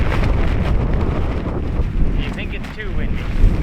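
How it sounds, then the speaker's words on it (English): Strong wind at a wild campsite in Newfoundland, buffeting the microphone in heavy rumbling gusts that rise and fall, with brief voices faintly under the roar. "it's just way too windy here"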